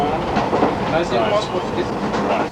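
A Rhodesian train runs on rails through the Botswana veldt, its wheels giving a continuous rolling clickety-clack with a rattling carriage rumble, close and steady throughout.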